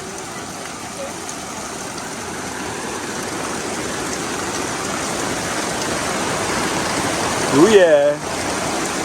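Steady rain falls during a thunderstorm in Costa Rica, a constant mid-level hiss, with a brief spoken voice near the end.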